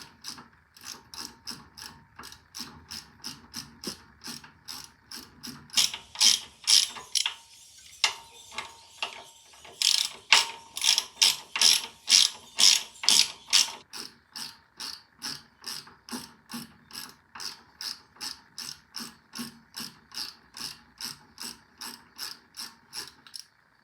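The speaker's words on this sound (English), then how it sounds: "So I've got a couple of ratchets and they're all different which direction it goes." A ratchet wrench clicks in a long, steady series of sharp strokes while working on a Harley-Davidson Rocker C, close and alone, briefly louder in the middle.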